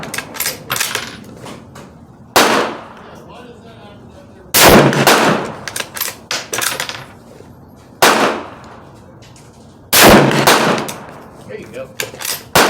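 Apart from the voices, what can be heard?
Savage Axis II XP hunting rifle shots at 100 yards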